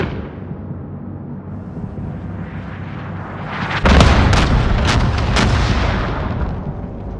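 A bombing run in the shooter game Call of Duty: Modern Warfare: a low rumbling buildup gives way to a loud cluster of heavy explosions and booming impacts, followed by a long rolling roar that slowly fades.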